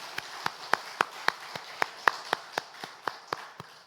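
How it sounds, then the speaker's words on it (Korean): A church congregation at a Sunday service claps together in a steady rhythm for members' birthdays, about fourteen sharp, evenly spaced claps in unison. "우리 박수로 축하합시다."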